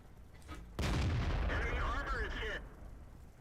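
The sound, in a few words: tank cannon fire from World of Tanks video game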